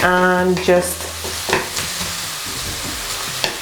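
Onions caramelize in a pan over medium heat for a vegan shepherd's pie, a soft steady sizzle with occasional stirring scrapes, heard close; someone talks briefly over the start.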